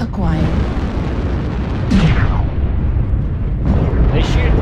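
Heavy weapons fire and explosions from the MechWarrior Online game, played with a Blackjack mech: loud rumbling booms with sweeping, descending blasts recur every couple of seconds over a dense, continuous battle din.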